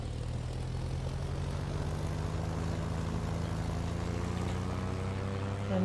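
A steady propeller-plane engine drones loudly throughout in a video game, a low rumbling hum with a slowly rising pitch, no voices; the plane is on fire.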